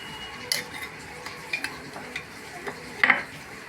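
Ghee is stirred into beetroot halwa in a pan over low heat, a soft background sizzle broken by several light scrapes and clinks of a spoon against the pan, with a sharper clatter near the end.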